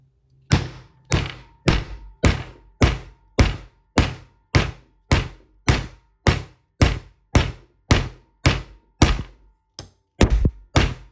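Heavy hammer blows on a metal impression die for soft-solder pendants, about eighteen evenly spaced loud thuds with sharp attacks, ringing briefly, close and alone with no talking.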